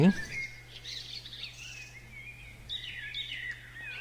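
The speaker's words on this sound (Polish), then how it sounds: "Tutaj ptaszki ćwierkają, pełna ścielska atmosfera." In the MaSzyna train simulator, small birds chirp and twitter at a moderate distance near a stopped locomotive, in bursts of high calls, over a low steady hum in a quiet outdoor setting.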